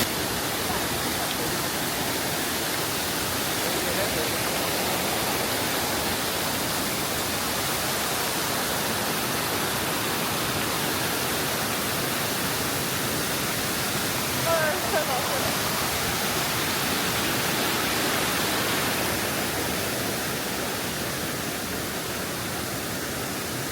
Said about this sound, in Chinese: 这箭竹海瀑布还挺长的 ，200-300米是有的。